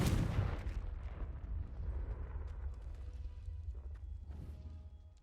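A Confringo fire spell is cast in the Hogwarts Legacy video game, bursting as a loud, broad blast at the start and then rumbling off into a long, fading roar.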